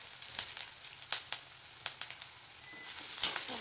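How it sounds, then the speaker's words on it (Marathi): Chopped onion with cumin and curry leaves sautéing in hot oil, a bright continuous sizzle punctuated by crackling pops and a few stirring scrapes, close and clear with no talking. "कांदा छान परतून घेऊ"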